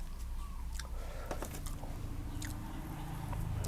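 Crispy grilled cow skin, cooked over a backyard fire on a cool morning, is bitten and chewed up close, giving scattered crunchy snaps over a low, steady outdoor rumble.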